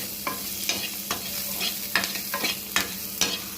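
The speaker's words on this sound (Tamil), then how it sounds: "இப்போ வாழைக்காய் வந்து வறுக்க போகிறோம்." Plantain pieces frying in a pan give a faint steady sizzle, broken by a regular series of close, crisp spatula scrapes roughly every half second, with no talking.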